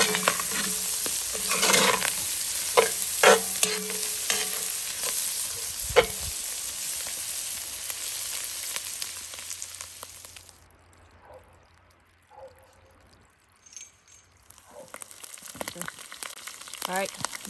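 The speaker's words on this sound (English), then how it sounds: "All I'm going to do now is saute the vegetables until they're tender." Vegetables sautéing in a cast iron pot over a campfire give a steady sizzle and frying hiss with occasional stirring scrapes, fading quieter for a few seconds before picking back up.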